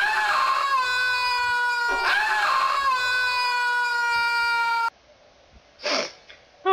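A long, high-pitched wailing scream from the video game Loom rises and falls for several seconds, then cuts off, followed by a short sharp squeal and brief quiet.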